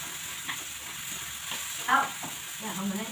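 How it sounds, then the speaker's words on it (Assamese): Tomatoes frying in a pan while being stirred, with a steady soft sizzle and a few scraping stirs of the spoon, heard close and moderately quiet with no talking. "এতিয়া মই বিলাহীখিনি ভাজি আছোঁ,"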